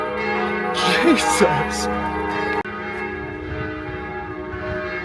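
A church bell in Germany rings at noon, a steady, loud, resonant peal carrying on throughout, while a person talks briefly over it.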